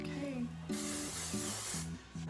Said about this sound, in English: This is the Heat Activated Volume Spray.